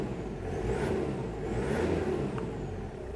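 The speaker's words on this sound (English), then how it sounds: "Have a little rev here." A 1998 Toyota Hilux Surf with a 1KZ turbo diesel revs up steadily from close by, a rough diesel drone with a faint turbo whistle swelling and easing over a few seconds, no talking.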